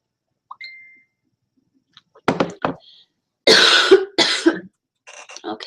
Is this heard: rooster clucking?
no